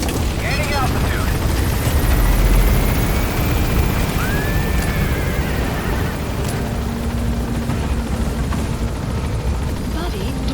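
A helicopter gains altitude in Metal Gear Solid V: The Phantom Pain, its loud, steady rotor roar filling the scene and blending with other dense game sounds.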